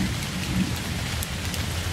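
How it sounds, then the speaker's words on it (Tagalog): Heavy rain pours steadily on a mountainside, a dense close hiss with a low rolling rumble of thunder underneath and no voices. "Yan mga idol, umulan na."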